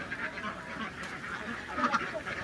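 A large flock of laying ducks at a duck farm in Rorotan, Marunda, quacks in a continuous overlapping chorus, close and steady with no pauses.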